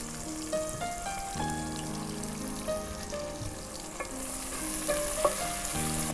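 Onions sizzle and fry in hot oil with turmeric, a steady close crackle with occasional stirring scrapes and small pops, no voices over it.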